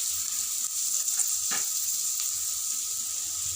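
Chopped carrot, cabbage and onion frying in a pan for veg cutlets, a dense hissing sizzle held close and even, with one brief stir near the middle and no voices.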